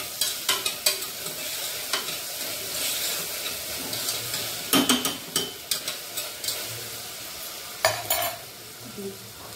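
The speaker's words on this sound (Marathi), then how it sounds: "थोडंसं परतून घेऊया। आलं लसूणची पेस्ट" Ginger garlic paste sautéing in a pan for a val khichdi tempering, heard as a sizzle under repeated sharp stirring taps and scrapes.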